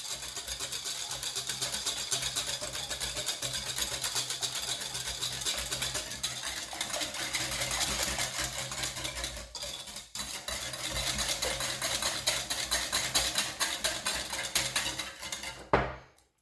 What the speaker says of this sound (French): On mélange. On incorpore bien le sucre.